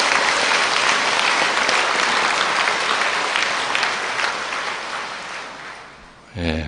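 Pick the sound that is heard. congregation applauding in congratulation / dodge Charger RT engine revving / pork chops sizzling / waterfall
congregation applauding in congratulation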